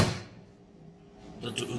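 The door of a wire-explosion apparatus for silver nanoparticle synthesis shuts with a soft thud at the start, followed by a quiet pause and a brighter clatter near the end, close and moderately loud.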